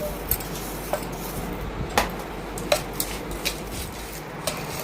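A spoon mixes coarse thread sugar into chopped raw mango pieces in a metal pot, producing scattered sharp clinks and taps against the pot over a soft, wet stirring background.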